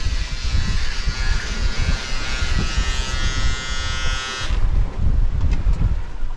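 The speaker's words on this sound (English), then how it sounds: "This is Luke having a shave" An electric shaver buzzes steadily during a shave aboard a sailing boat on passage across the Pacific, a close thin whine over gusty wind rumble, cutting off before the end while the wind continues.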